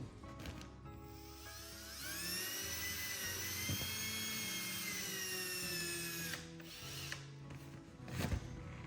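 A power drill drives a screw into a scrap wood backer behind drywall, one sustained whirring run of several seconds with a rising motor whine, close and loud, ending with short clicks and handling noise.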